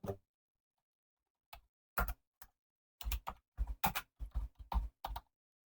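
Keys on a computer keyboard are pressed in sparse, crisp clicks, first single taps with pauses, then a quicker run of close, loud keystrokes in a quiet room.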